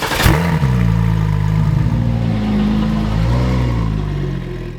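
A twin turbo V6 swapped into a restored Mercedes 190E starts with a sharp burst, then settles into a steady loud idle with rising and falling revs, close and alone for several seconds.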